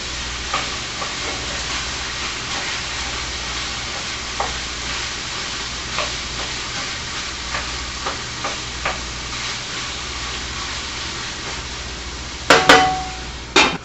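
Ground beef fries in a pan with a steady, dense sizzle throughout, dotted with faint stirring scrapes, then a few louder clanks of a utensil against the pan near the end, with no talking.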